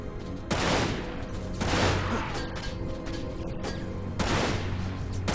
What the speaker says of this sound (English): Who is actually firing bullets at me?